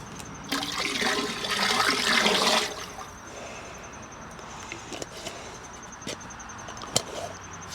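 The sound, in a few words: sugar water being poured into a tank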